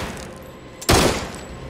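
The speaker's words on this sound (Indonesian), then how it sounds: "Hingga terjadilah baku tembak dan perkelahian." Gunfire in a film shootout between an agent and a target: a sudden loud burst of shots after a quiet stretch, sharp and close, ringing briefly before fading.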